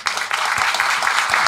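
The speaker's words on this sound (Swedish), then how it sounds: "stor applåd för Anders." A live podcast audience applauds a guest, giving dense, continuous clapping close by that fills the whole moment.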